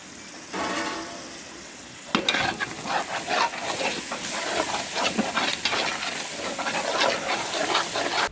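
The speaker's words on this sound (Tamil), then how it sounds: "இப்போ வந்து நம்ம தயிர் ஆட் பண்ண போகிறோம்." Yogurt stirred into a chicken biryani masala of tomato and coriander in a hot pan, giving a steady sizzle and frying hiss with scraping stirs that begin quietly and grow busier after a couple of seconds, with no talking.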